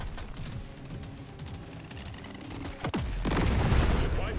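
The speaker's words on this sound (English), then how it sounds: "That's a lot of explosions." Video game Deep Rock Galactic: Survivor on Hazard 3 with rapid overclocked weapon fire and overlapping explosions, a steady crackling barrage swelling into a heavier rumbling burst near the end.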